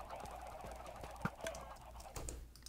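Chickens cluck and gobble softly in the background, short scattered calls rising over a quiet low hum, with faint clicking like typing mixed in.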